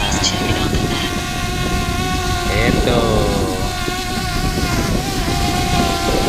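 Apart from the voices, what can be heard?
small drone flying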